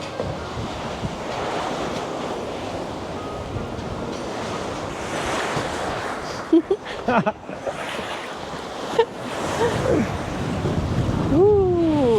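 Waves surge and wash ashore under steady gusting wind, with a few brief thumps and a faint high whine near the end.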